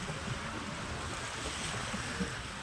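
Steady roar of sea waves and surf at a river mouth near Digha, a continuous broadband wash with wind noise and no talking.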